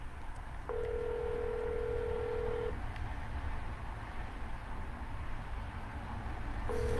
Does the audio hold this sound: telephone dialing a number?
yes